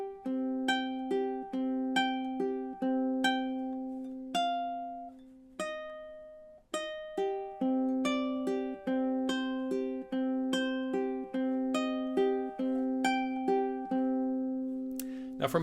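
A plucked fingerstyle ukulele melody of Spanish Romance, single notes ringing out one after another in a steady rhythm, up close and alone, with a brief pause midway.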